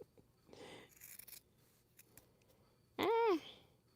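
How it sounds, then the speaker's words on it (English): Dull, cheap paper scissors snip through quilting fabric in a few short crisp cuts, fairly close and quiet, with one louder burst near the end and no talking. "These are raggedy scissors from Temu. Those did not work. They're just dull. They're paper scissors."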